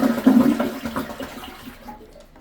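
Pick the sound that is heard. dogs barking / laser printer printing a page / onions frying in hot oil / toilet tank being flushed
toilet tank being flushed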